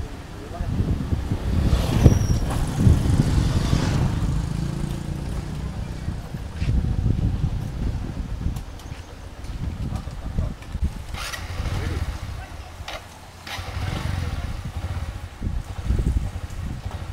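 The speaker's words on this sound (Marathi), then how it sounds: "आईला लय गाड्या काय ना इथं" Road vehicles pass by a village roadside, a rumbling roar that swells and fades repeatedly over wind noise, with voices talking at times.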